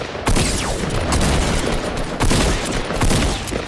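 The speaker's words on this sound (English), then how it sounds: "And then of course I miss a ton more shotgun shots." Rapid gunfire bursts from shotgun fights in the video game Fortnite Battle Royale, several loud overlapping shots in quick succession under dense in-game action noise, with no talk.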